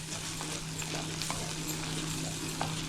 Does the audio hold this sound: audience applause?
no